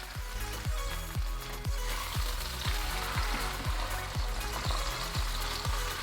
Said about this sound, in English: let the side directly touching the hot pan fry and brown